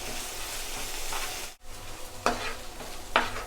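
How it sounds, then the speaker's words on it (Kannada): Onion garlic paste frying in oil in a pan: a steady low sizzle with two distinct spatula scrapes against the pan, close and moderately loud. "ನೋಡಿ, ಎಣ್ಣೆಯಲ್ಲಿ ಚೆನ್ನಾಗಿ ಫ್ರೈ ಮಾಡ್ಕೊಂಡಿದ್ದೀವಿ ಪೇಸ್ಟ್ನ"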